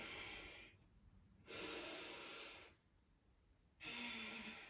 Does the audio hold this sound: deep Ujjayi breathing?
yes